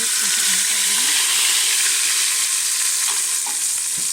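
Spices frying in hot cooking oil for a mutton curry, with yogurt being added, giving a loud, dense, continuous sizzle heard up close with occasional stirring.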